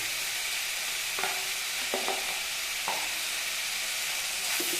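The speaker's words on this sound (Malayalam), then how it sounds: "ഇതിൻ്റെ കൂടെ കിടന്നിട്ട് ഇതിൻ്റെ ആ ഒരു റോ ടേസ്റ്റൊക്കെ പോണ വരെ നന്നായിട്ടൊന്ന് വഴന്ന് വരട്ടെ" Onions with ginger-garlic paste sauté in a pan for a Chettinad-style chicken dry roast: a constant bright sizzle and hiss, with a few distinct spatula scrapes stirring through it.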